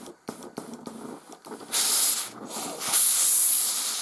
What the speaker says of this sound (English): That is a good iron, that's the most powerful steam I've ever had.